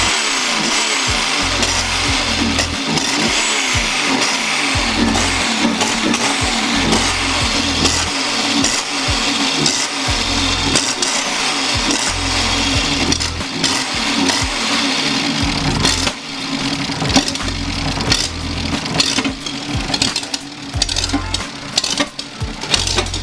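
A BMW E36 engine is revved again and again with the throttle, a loud, close, rough drone whose pitch rises and falls in repeated pulses.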